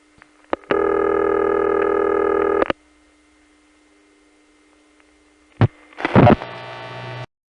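A Yonkers No. 1 crossbar telephone switch gives a steady buzzing line tone for about two seconds, then clicks, followed later by a sharp clatter and a fainter tone.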